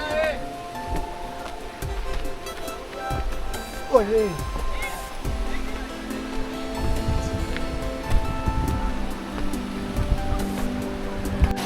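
A monsoon river near Kalu Waterfall rushes and churns steadily as trekkers wade across, with people talking over the broad water noise.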